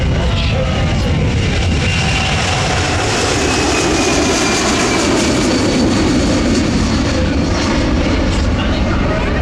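A Boeing C-17 four-engine turbofan jet transport roars loudly and continuously as it flies past at an airshow, a broad thundering jet noise with shifting tone, while an announcer talks over it.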